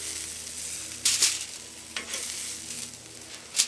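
A pat of butter sizzles on a hot tray, a steady hiss with a few sharp crackling bursts spaced through it, close and moderately loud with no voices.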